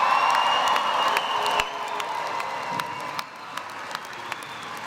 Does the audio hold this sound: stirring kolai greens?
no